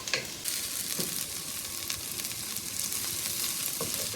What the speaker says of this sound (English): we're going to saute the onions and garlic